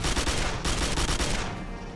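Automatic weapon fire in Quake 4 on Xbox 360, a loud, rapid stream of shots that fades slightly toward the end, with no voice over it.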